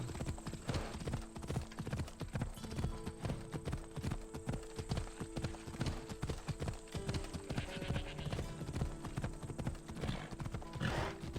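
Horse hooves clip-clop in a steady, brisk rhythm throughout, with game music playing underneath and a brief whinny near the end, from Assassin's Creed Odyssey.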